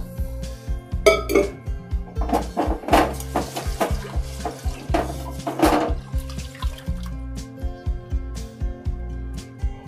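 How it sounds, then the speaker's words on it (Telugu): Rice and dal being rinsed with water inside a pressure cooker for sweet pongal, with repeated clinks and scrapes of metal and sloshing water, close and moderately loud, with no talking. "వాటర్ వేసుకొని ఒక 2 టైమ్స్ వాష్ చేసుకోవాలి"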